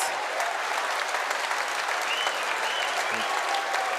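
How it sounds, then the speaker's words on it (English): A large rugby league crowd at a Widnes Vikings away match cheers and applauds steadily, a dense roar of clapping and shouting with no break. "You can hear the crowd on their feet."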